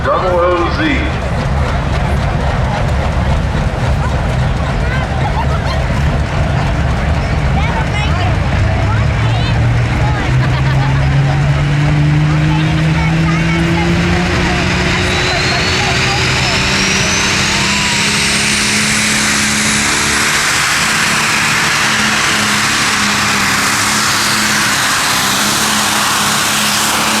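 Modified pulling tractor at a Lucas Oil East Coast Series pull in Kempton roars steadily down the track, loud and continuous with rising engine pitch, under an announcer talking throughout.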